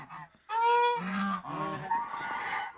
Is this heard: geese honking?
yes